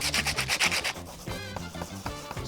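Rhythmic back-and-forth wet sanding of a cast water-based compound terrazzo piece, loud strokes at first, then softer gritty scrapes, with no voices.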